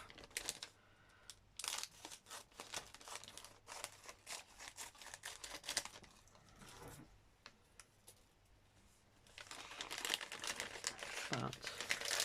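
Paper being crinkled and crumpled by hand for a junk journal, with close, faint rustling and crackling that comes in uneven bursts and grows busier toward the end.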